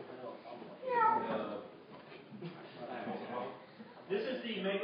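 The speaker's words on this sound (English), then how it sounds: "Cat." A cat meows a few times indoors, faint and intermittent, partly under people talking in a disc golf news chat.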